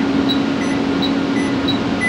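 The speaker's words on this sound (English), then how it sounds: "the aircon is already on," An air conditioner hums steadily and fairly loudly in a room, a constant even drone with faint high tonal whines and no other sounds.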